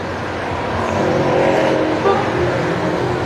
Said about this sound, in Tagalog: Sobrang traffic sa West Service papuntang sa Puti Road.